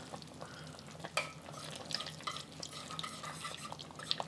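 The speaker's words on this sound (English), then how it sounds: "Try to move the meatball over a little bit so I can actually stir in the sauce." Thickened sauce with cornstarch slurry being stirred around Lion's Head meatballs in a pan, soft wet scraping and bubbling with small clicks and drips, close and fairly quiet, with no voice over it.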